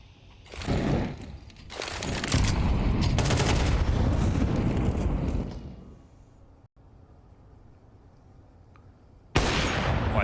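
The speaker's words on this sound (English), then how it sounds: "dies to the USP headshot of Wonderful, and the game is tied again." Pistol gunfire from a USP in a competitive Counter-Strike 2 match at a major tournament, a burst of loud close shots and gunfire in the first half, then quieter game ambience and a sharp return of noise at the end.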